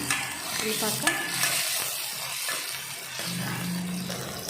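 Tomato, onion, coriander, curry leaves, cumin and mustard seeds being stirred in an oil pan for ridge gourd curry, a continuous sizzle with scraping spoon strokes, close and fairly loud, no talking.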